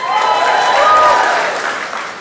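Fan convention crowd clapping loudly in a hall, a dense, full round of applause that swells in the middle and eases slightly toward the end.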